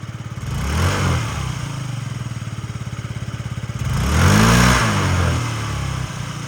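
A fuel-injected Yamaha Jog SA39 scooter engine runs close by at a steady idle, lifted by two short throttle blips.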